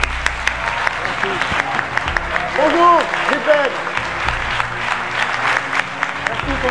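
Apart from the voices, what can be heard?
studio audience applause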